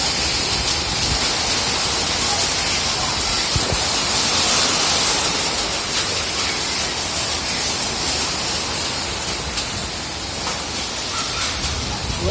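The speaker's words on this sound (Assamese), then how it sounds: "পুৰা শিল বৰষুণ ধুমুহা।" A hailstorm with wind and rain in Golaghat pours down as a dense, constant hiss and clatter across the whole stretch, loud and close, with no clear gusts standing out from the steady downpour.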